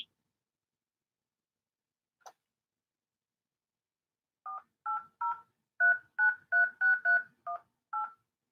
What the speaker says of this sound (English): please enter the 10-digit phone number associated with your account,